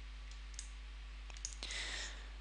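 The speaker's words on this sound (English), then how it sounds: "shift left middle click, shift right click, shift scroll." A computer mouse clicks while navigating a model in Octane Render. A handful of close, crisp clicks sound over a quiet steady background hum.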